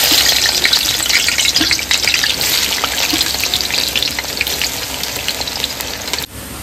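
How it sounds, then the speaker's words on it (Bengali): Sliced onions fry steadily in a generous amount of hot oil, browning into crisp beresta for biryani. The loud, dense sizzle crackles and pops without a break for about six seconds, then drops off abruptly at the very end. "তেল গরম হয়ে গেছে, পেঁয়াজগুলো এবার বেরেস্তা করে নেব।"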